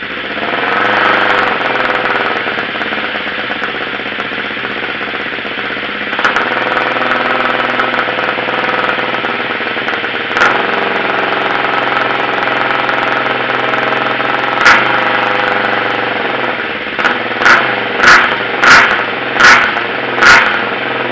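A Kawasaki KLE 500 motorcycle engine turns over and settles into a steady, loud idle with a dense mechanical drone, then gives several sharp blips of the throttle near the end.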